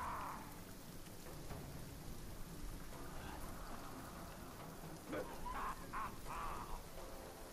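Steady rain falling in Middle-earth: Shadow of Mordor, a quiet continuous patter on the ground with faint occasional sounds, no talking.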